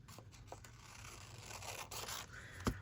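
Scissors cut paper date numbers for a journal, making a faint, soft snipping and scraping close by. A single sharper snip comes near the end.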